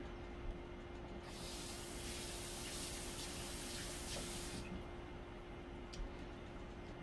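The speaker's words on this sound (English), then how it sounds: "I'm gonna wash my hands off." Hands washed under a running kitchen faucet: a soft, steady hiss of water swells for a few seconds, then cuts off, quiet and fairly close.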